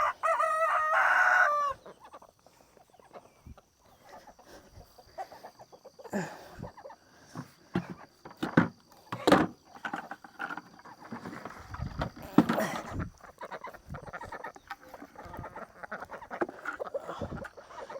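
A rooster crows loudly at the start, followed by scattered clucking and rustling from chickens at moderate distance.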